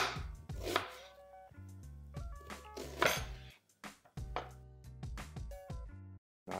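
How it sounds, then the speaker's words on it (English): A large white onion is finely chopped with a knife on a board: quick bursts of sharp, close knife strikes in uneven runs, with brief pauses between and a short silence near the end. "we'll start by finely chopping a large white onion"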